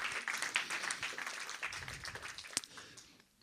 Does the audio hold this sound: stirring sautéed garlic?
no